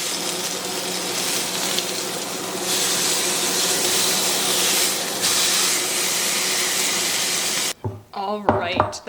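A salted roast browns in a hot pan with a loud, continuous sizzle and hiss that swells partway through, then cuts off before a voice speaks briefly.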